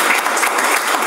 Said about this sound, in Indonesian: berikan tepuk tangan kita yang paling meriah